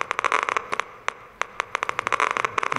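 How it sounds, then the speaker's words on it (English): Brain neuron electrical spikes rendered as sound come through as sharp, irregular clicks and crackling bursts, some tightly clustered and some isolated, with no voices. "if we translate this code into sound, what you hear is something like that."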